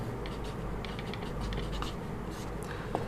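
Handwritten notes being written during a geography lesson, pen scratching softly in short strokes against a low background hum, close and faint.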